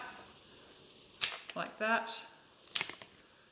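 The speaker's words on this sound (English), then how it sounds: "if you make your cut on either side of the node, so like that" Two sharp snips about a second and a half apart as a plant stem is cut beside the node, with a brief murmur of voice between them in a quiet room.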